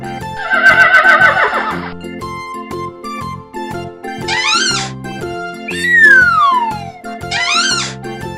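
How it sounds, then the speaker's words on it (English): A horse whinnies once, a bright descending neigh rising above a busy, looping children's-song backing with synth tones and other animal-like effects, loud and up front with no talking. "horse"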